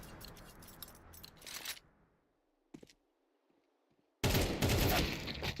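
Gunfire in a competitive shooter video game match ends in a headshot. A rattling burst comes first, then a single sharp shot after a quiet gap, then a loud, dense volley of shots close by.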